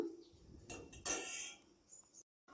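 A spoon stirs fried eggs into garlic paste in a pan, making a few quiet metallic scrapes and clinks against the cookware with short pauses between.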